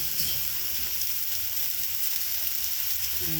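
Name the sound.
potato and raw banana curry being fried with sugar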